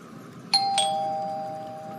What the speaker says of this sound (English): I am going to ring the doorbell